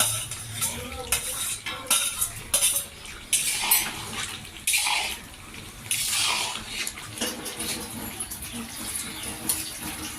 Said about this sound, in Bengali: এখন আমি এর মধ্যে ভেজে রাখা আলুগুলো দিয়ে দেব।